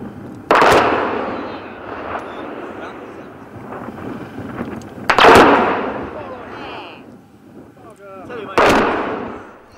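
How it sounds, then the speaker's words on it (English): Radio-triggered controlled explosions set off through detonation cord, three loud outdoor blasts a few seconds apart, each a sharp bang trailing into rumble, with a voice speaking between them. "The receiver is wired to an electronic detonator, which triggers the blast via a length of detonation cord"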